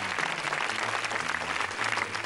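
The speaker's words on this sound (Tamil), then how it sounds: "அனைவரும் கரகோஷங்களை எழுப்புங்கள்" Studio audience at a Tamil children's TV game show breaks into steady applause, a dense wash of clapping that stays loud and even throughout with faint voices mixed underneath.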